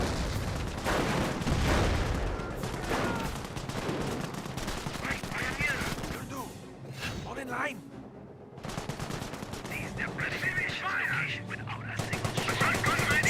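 Gunfire and booming shots crack repeatedly from a StuG assault gun in Company of Heroes, mixed into a loud battle soundscape with bursts of machine-gun fire and a commentator talking over much of it.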